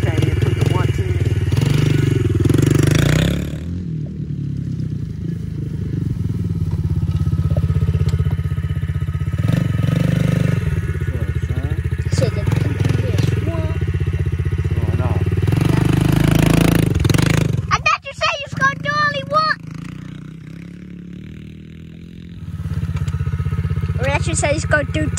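A 110 cc motorbike engine runs steadily with a low rumble, rising in revs at times, mixed with clatter and knocks; people talk over it, and a brief high whining sound breaks in near the end.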